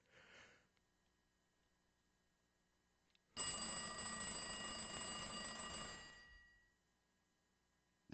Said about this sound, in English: Is that a phone or my alarm?